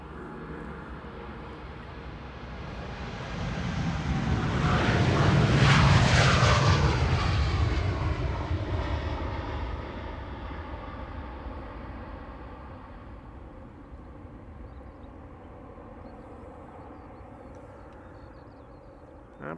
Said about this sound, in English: KLM flight 639 to San Jose, 7879 Dreamliner